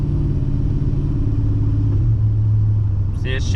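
A Dodge Dakota R/T engine fitted with a Mopar M1 intake rumbles steadily from inside the truck as it drives and shifts, the low engine drone continuous and fairly loud, with a brief voice near the end.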